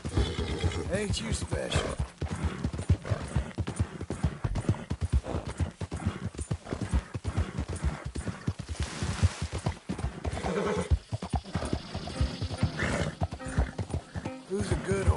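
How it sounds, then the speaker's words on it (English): Galloping horse hooves clip-clop steadily in Red Dead Redemption 2, with a horse neighing and whinnying among them, while a voice speaks warmly over the rhythmic hoofbeats. "Who's a good horse?"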